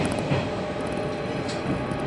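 Steady low rumble of a Tobu Nikko Line train rolling along the tracks into a station, a continuous heavy rattle with no voices.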